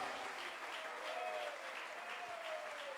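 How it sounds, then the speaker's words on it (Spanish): A church congregation at a Spanish-language worship service claps in praise, producing a steady, even wash of many hands clapping together. It sounds fairly soft and somewhat distant, with no voices rising above it. "Vamos, dele palmas de alabanza."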